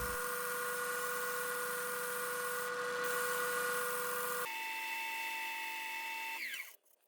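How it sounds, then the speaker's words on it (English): A wood lathe spins a spalted sweetgum bowl while sandpaper is held against it, a steady close motor drone with a rough abrasive hiss that shifts pitch partway through and then winds down. "I'll start with 80 grit sandpaper again and work my way all the way up to 1500"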